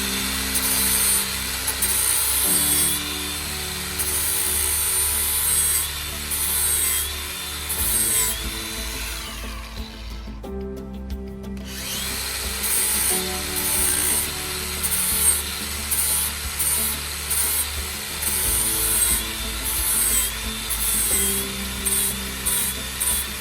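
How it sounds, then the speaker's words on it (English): A lawnmower blade is steadily ground and rubbed in a continuous, loud, rasping stroke that runs on with a short pause in the middle, with no talking. "I partially sharpened the blades."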